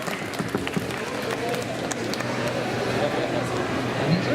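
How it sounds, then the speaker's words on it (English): Scattered clapping from a crowd at a comic con cosplay Q&A, moderately loud and sustained, with voices and chatter mixed in underneath. "Round of applause, please."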